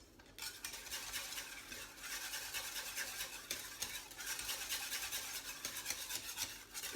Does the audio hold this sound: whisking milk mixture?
yes